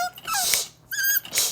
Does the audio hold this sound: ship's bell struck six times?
no